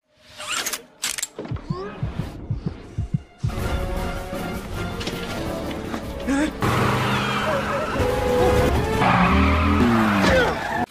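A sports car tears away in a chase, tires skidding and squealing loudly over roaring engine and mechanical clatter, with sharp bursts early giving way to a sustained, intensifying screech.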